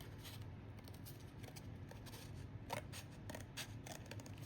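Scissors snipping through paper while cutting small shapes for mini retro ornament shakers, a quiet, continuous run of soft crisp cuts and paper rustle heard close up with no talking.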